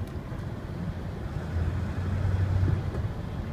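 A 2001 Ford Excursion 4x4 diesel idling as it is shifted into reverse, a steady low engine rumble that swells slightly midway, heard from inside the vehicle.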